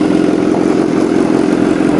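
A BMW S1000R motorcycle engine roars loud and close in a steady, gritty drone that holds an even pitch, with no speech over it.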